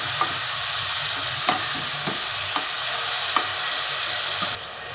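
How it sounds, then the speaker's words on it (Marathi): Onion and matki sauté in a pan with spices, a steady close sizzle broken by regular stirring scrapes, ending with a sudden drop in level. "हळद, चांगलं परतला आता कांदा"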